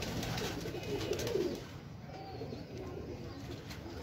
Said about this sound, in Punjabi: ਕਮਾਲ ਗੋਲਡਨ ਕਬੂਤਰ